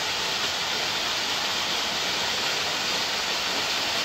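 A village water spout pours into a swimming spot with a steady, loud rush of splashing water that continues unbroken throughout, and no voices can be heard.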